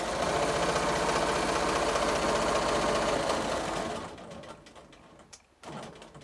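A sewing machine runs steadily at speed during free motion quilting of feathers, its dense rapid stitching close and loud for about four seconds before slowing and stopping, leaving a few faint clicks and a brief final burst.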